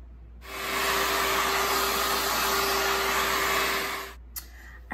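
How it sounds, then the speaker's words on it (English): A hair dryer blows on a synthetic lace front wig, a loud steady whoosh with a constant motor whine that switches on after a moment and cuts off near the end, no talking. "I'm gonna start blow drying it"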